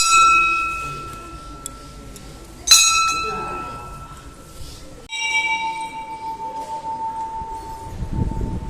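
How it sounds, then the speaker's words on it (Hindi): A bell rung at a Hindu household shrine. Sharp metallic clangs with long ringing tails, one strong strike near the middle and a sustained ring later, with faint voices and background noise. "घंटी बजाते हैं"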